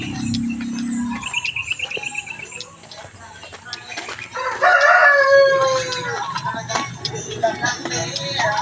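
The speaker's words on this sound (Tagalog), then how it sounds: "Ang daming manok dyan, sa kulungan." Chickens in a coop at a provincial home, with pigeons kept nearby, cluck and chatter with a rooster crowing partway through, amid background noise and brief distant voices.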